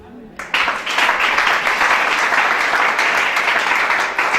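A church congregation breaks into loud applause, a dense sustained wash of clapping that starts abruptly and holds steady for several seconds, with voices mixed in.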